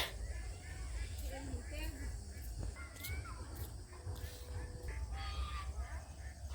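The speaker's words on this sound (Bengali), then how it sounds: "মুরগি" Village chickens cluck and a rooster crows in a rural yard, the scattered calls rising over steady background noise while a person talks throughout.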